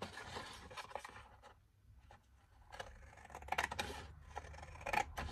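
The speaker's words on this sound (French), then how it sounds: "maintenant, vous pouvez découper sur votre tracé" Scissors snip through scrapbooking paper along a traced line, giving a few close, crisp cutting sounds with short pauses between strokes and a quiet gap partway through; no one speaks.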